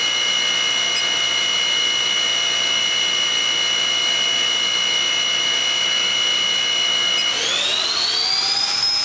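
A Haas VF3 CNC vertical machining center spindle running at 4,000 RPM gives a steady, loud high-pitched whine with no voices, rising in pitch as it speeds up near the end.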